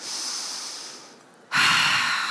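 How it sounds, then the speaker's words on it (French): A slow, deep breath drawn in through the nose as part of a guided breathing exercise, a soft steady airflow that fades, then a louder, rougher breathy rush after a short pause, close and alone. "On va prendre 3 inspirations par le nez et on va expirer par la bouche"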